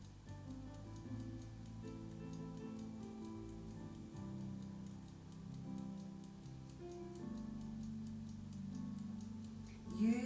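A timer ticks steadily in an even rhythm through a yoga pose hold, faint beneath sustained soft music tones, with a brief louder swell near the end.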